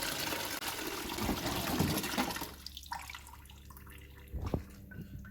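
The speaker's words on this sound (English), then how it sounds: "Rinse it off with water." Water rinses brake parts from a 2000 Audi A4 B5 front brake job, a broad hissing spray that runs loud for a couple of seconds, then cuts to quieter trickling and a brief splash near the end.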